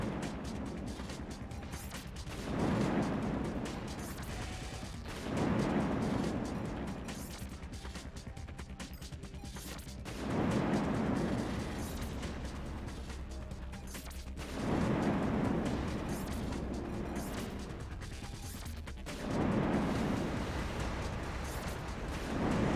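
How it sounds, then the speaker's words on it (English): Missiles launching and exploding in the mech combat game Armored Core, a series of about five heavy booming bursts at a steady few-second spacing over a constant low mechanical rumble, with no talk. "I'm going to lock onto him and shoot him with missiles."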